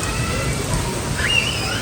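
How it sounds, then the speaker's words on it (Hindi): Steady rain hisses and splashes continuously, a dense wet wash of sound close by, with a faint brief tone rising near the end. "आज खुल के बारिश हो रही है"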